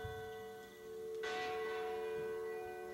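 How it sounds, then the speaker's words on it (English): Church bell at St. John's Anglican Church in Prescott, struck once and ringing with a long sustained hum of overtones, faint and somewhat distant. "The bell tolls proudly at St. John's Anglican Church in Prescott."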